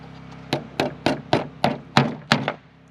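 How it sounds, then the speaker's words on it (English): Hammer strikes driving a nail into pallet wood, about eight evenly spaced, solid thunking blows close by, each with a short ringing decay, no talking. "Hammer that down"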